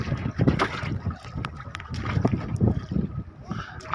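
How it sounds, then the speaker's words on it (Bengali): Strong wind over a river under an overcast, rain-threatening sky, buffeting the microphone in gusts with water sloshing against a boat, steady and fairly close. "বাতাস কিন্তু অনেক বেশি"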